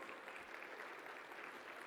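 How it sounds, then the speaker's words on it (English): A crowd at an MLK Day opening ceremony applauds young singers with a dense, steady round of clapping that holds at an even level from start to finish. "Can we give them a round of applause?"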